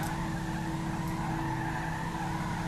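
Car tires skid and spin with a continuous loud squeal and engine roar, the cheap car racing in Grand Theft Auto V roleplay.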